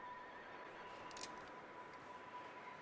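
A horse whinnies in Red Dead Redemption 2, a faint, brief neigh over a steady low background hiss with no talking.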